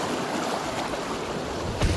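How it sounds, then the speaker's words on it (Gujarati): Water flows in the Singuda river as a steady, broadband rush close by, with a brief swell near the end and no voices. "સિંગુડા નદીમાં પાણી રોગ આ રીતનું પાણી જાય છે."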